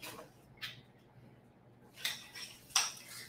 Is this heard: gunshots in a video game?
no